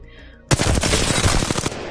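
An R-301 rifle with no attachments fires in Apex Legends: silence, then a sudden loud full-auto burst of rapid, evenly spaced shots that runs without a break for about a second and a half.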